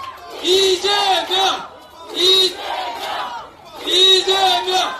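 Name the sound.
crowd cheering and applauding at a political rally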